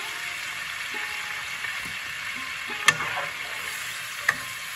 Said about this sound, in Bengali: এখন এটা একটু ভাজা হোক মশলাটা।